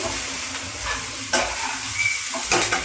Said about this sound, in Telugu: కొన్ని ఉల్లికాడలు ఇలా వేసి ఒకసారి కలుపుకుని